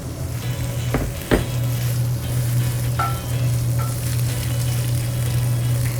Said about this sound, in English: Getting a little nice saute on them.